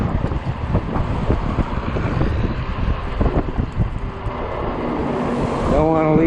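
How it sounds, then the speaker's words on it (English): Strong wind gusts buffet the microphone while riding a 20-inch 48V fat-tire e-bike on a road in 30 mph gusts, a loud continuous rumbling roar with a brief tonal whine near the end. "Don't want to leave you guys with a lot of wind."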